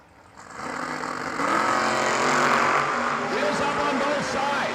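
A 1971 Chevrolet Vega drag car with a 406 small-block engine rumbles at a drag strip, its loud, throaty engine swelling after a quieter start and holding steady, with a voice carrying over it.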